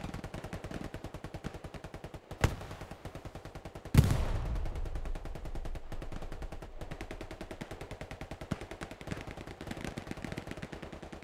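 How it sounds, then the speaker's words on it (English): Rapid automatic gunfire rattles in a steady stream during a Hell Let Loose 18v18 match, with a heavy explosion-like blast around the middle and continued nearby firing afterward, no talking. "We're taking fire from the hill"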